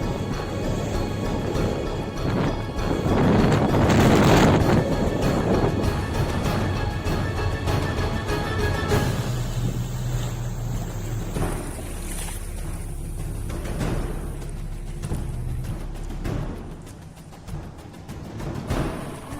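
Freezing wind and rough waves at sea heard from aboard a boat: steady loud wind roar buffeting the microphone with surging water and hull splashes, continuous and close, no voices.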